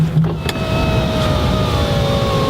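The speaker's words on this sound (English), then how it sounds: "The windows take forever to roll up." The power windows of a 2017 Honda Civic Hatchback Sport Touring whir upward with a steady electric motor whine, heard close up inside the car over a low background hum.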